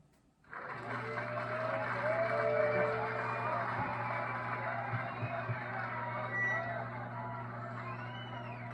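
A Guitar Hero arcade crowd roars up suddenly after a brief quiet and holds a sustained wash of cheering and whooping at moderate level, with a steady low electronic hum beneath and occasional faint tones.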